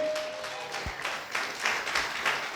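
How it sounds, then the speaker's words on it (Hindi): A church congregation claps at a Hindi-language service, scattered uneven bursts of hands that build into louder clusters of claps over a couple of seconds, with a brief low thump early on. "ताली बजाओ जोर से"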